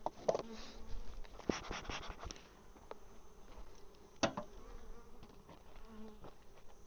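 Honeybees buzz around open beehives during a mite wash, a steady close hum with individual insects droning past the listener, punctuated by a few sharp clicks and knocks.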